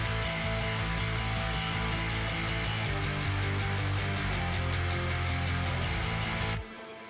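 Guitar and bass mixed through a parallel compression bus with a Purple Audio MC77 compressor: a dense, heavily squashed band sound, loud and sustained, then cutting off abruptly near the end.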